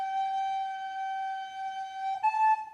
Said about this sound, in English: this time jump from the G to the A.